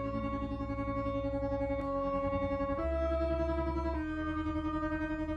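A bright Serum synthesizer patch opens a melodic drum and bass intro, sustained layered chords with echo and distortion shifting every second or so, loud and alone with no voices.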